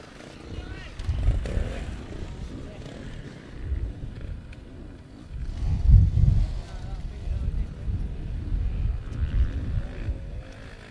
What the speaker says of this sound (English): I'm just about getting blown over by the gusts of winds we're having at the moment